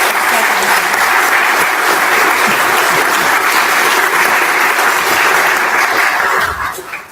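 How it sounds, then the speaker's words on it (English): Loud, sustained applause fills the room from the audience at a board of education meeting, dense clapping that holds steady before tapering off in the last moment. "Can you guys please hold your applause until we vote on the motion?"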